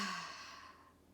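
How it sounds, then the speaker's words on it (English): A single deep breath let out through the mouth, a soft close airy sigh that fades steadily to quiet. "So let's take a deep breath in through the nose. Let's let it go out the mouth."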